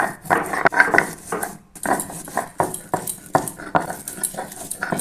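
Chillies and garlic being ground on a stone slab: rhythmic rough scraping strokes repeat steadily at close range, with occasional clinks.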